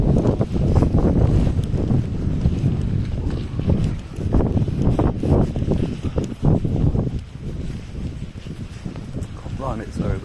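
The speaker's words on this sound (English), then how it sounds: "it's very windy" Strong wind blows outdoors around a building's perimeter, buffeting the microphone in loud, uneven rumbling gusts that rise and fall across the whole stretch.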